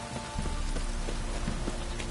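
Steady rain falls in the world of The Witcher 3: Wild Hunt, a dense continuous hiss of drops pattering on surfaces, with no voices over it.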